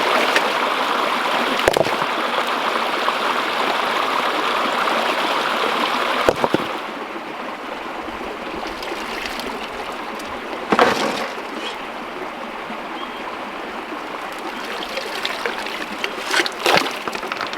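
Fast-flowing creek water rushing past a bedrock shelf below a waterfall, a steady broadband roar that runs the whole time, with a few brief knocks and splashes close by.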